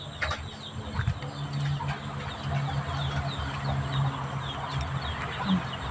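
Chickens clucking in a yard, soft repeated clucks and murmurs over a low steady background hum, moderately close.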